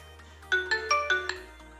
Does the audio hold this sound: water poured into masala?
no